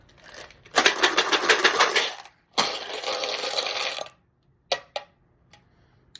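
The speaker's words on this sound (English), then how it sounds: "I'm going to shake the dice. You know this gets loud." Dice rattle hard and loud inside a container in two long bursts of shaking, then a few sharp clatters and a short silence.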